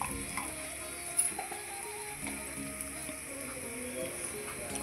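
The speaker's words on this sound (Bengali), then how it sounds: "পেঁয়াজগুলো হালকা লাল লাল করে ভেজে নেব।" Onions sizzle steadily in a pan on a home stove, a close, even frying hiss with a few light clinks of stirring, no voices.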